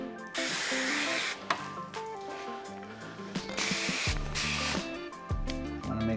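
Several bursts of hissing spray from a bottle, close by, during installation of a satin black paint protection film wrap, over steady background music.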